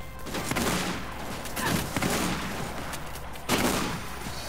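Rapid bursts of gunfire crackle in the video game Mirror's Edge as enemies are shot down, loud and sustained across the whole stretch, with sharp surges of shots near the start and again toward the end.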